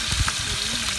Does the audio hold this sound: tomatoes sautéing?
yes